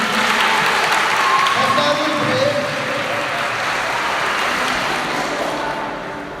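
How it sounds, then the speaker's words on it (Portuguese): A church congregation applauds a guitarist: loud, steady clapping filling the room, with some voices mixed in, gradually tapering off toward the end. "Vamos aplaudir o irmão do violão"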